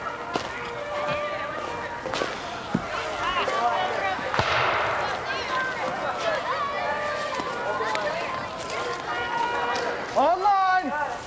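Musket volleys and cannon blasts at a Civil War reenactment battle: sharp, scattered cracks and booms near and far over continuous shouting from the troops.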